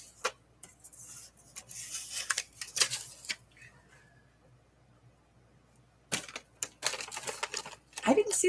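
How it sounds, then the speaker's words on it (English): Scissors snip through paper in a run of close, crisp cuts while fussy cutting around a shape, pausing briefly before more rapid snips resume near the end. "We're going to fussy cut that."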